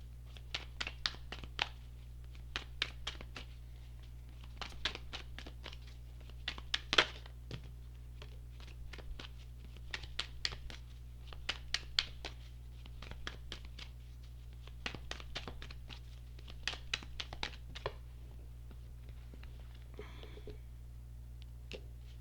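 Tarot cards are shuffled again and again in bursts of crisp riffling and soft slaps, close and quiet over a low steady hum, with faint whispery sounds between.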